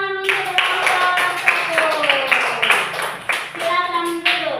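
Children in a classroom clap steadily for a group that has just presented, a sustained round of rhythmic hand claps with children's voices chanting and talking over it.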